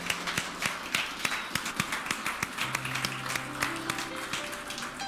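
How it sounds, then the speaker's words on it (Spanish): Church congregation giving a strong round of applause to the Lord at the close of a Christmas-season service, brisk, uneven clapping with sharp individual hand slaps standing out over a sustained organ-like tone. "Le damos un fuerte aplauso al Señor."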